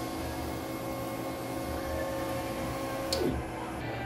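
Ink tank printer running a nozzle check after a head clean, giving a steady mechanical hum with a rising whine near the end, a brief sharp click, then the motor settling, with no talk.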